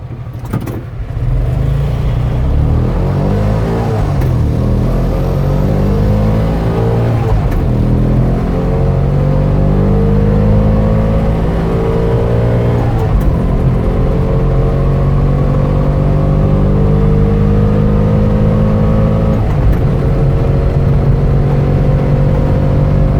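A Bajaj Qute with a 216cc engine drives along, its steady loud engine drone rising and dropping with each shift as it works through the sequential gearbox, with no talk over it.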